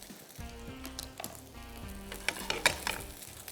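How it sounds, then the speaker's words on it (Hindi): Spicy chicken kebabs fry in a pan with a steady sizzle, while scraping stirs and sharp metallic clinks of utensils on the pan come close and fairly loud near the end. "कबाब को हल्का सा और फ्राई कर लेते हैं"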